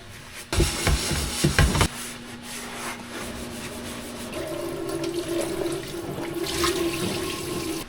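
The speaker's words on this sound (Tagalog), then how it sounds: "let's wash the dishes" Dishes washed at a kitchen sink with the tap running, a few loud clattering knocks early on, then steady splashing water and scrubbing close by, with no talking.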